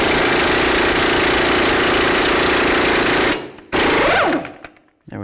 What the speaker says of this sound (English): Use your 36mm socket,